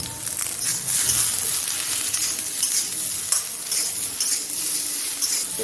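Vegetables tossed with ginger paste in a pan on an induction cooktop, a steady close sizzle with scraping stir strokes running throughout, no voices.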